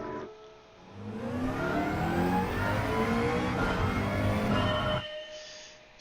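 A race car engine on a lap of Spa in Gran Turismo 7, close and loud, climbing through the revs with rising whine and gear changes for about four seconds before cutting off abruptly.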